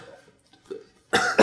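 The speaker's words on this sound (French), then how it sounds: "On tousse." A single sharp cough bursts out near the end after quiet murmuring, close and loud, with a second harsh push right after.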